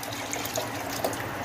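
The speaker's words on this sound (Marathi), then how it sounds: "तर पाणी ॲड करूया" Water poured into a pot of chicken pulao with yogurt and basmati rice trickles and splashes softly and briefly, close by, with no speech.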